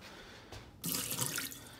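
Water suddenly gushes from a Maytag, Whirlpool or KitchenAid refrigerator dispenser after a quiet moment, a steady, close splashing stream running until the end.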